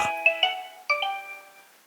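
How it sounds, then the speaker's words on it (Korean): A phone rings on an outgoing call, sounding as a bright electronic chime melody of several clear notes in quick succession, alone and fairly loud before fading out. "아들은 애타는 마음으로 전화를 걸어봅니다."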